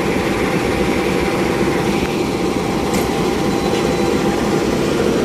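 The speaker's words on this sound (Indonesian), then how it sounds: "kereta Argo Prayangan. Nomor K40 yang disiapkan untuk berangkat ke stasiun Bandung." A continuous low rumble of a train engine at Gambir station fills the scene, steady and loud, with faint clanks and hiss in the background.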